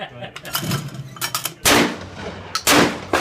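Molot Vepr 12 semi-automatic shotgun fired on an outdoor range, two loud sharp blasts about a second apart, with voices talking faintly before and between the shots.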